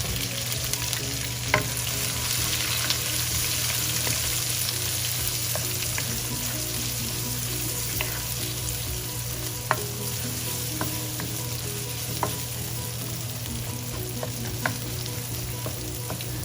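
Onions sizzle steadily in a pan for chicken liver curry, a loud continuous hiss dotted with occasional sharp pops and clicks, with no talking over it.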